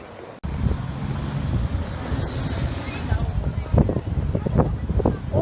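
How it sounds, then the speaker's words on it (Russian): Strong wind buffets the microphone outdoors in a park in Yakutsk during a city anniversary concert, a steady roar with rumbling gusts throughout, while a person talks over it. "Очень сильный ветер"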